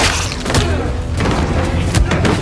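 Heavy booming thuds from a film fight scene, cinematic gunshot effects, several dense impacts packed into a couple of seconds, loud and close with a rumbling tail.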